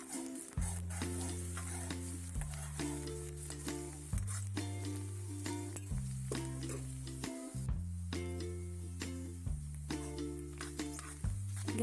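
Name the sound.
dried chillies and whole spices frying and stirred in pan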